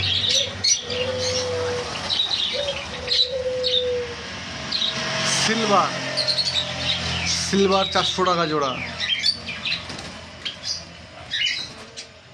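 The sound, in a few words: caged java sparrows and love birds chirping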